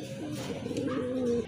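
Pigeons cooing, a pair of Banja pigeons: one short, soft, throaty coo rolling low and close, quiet, with no voices.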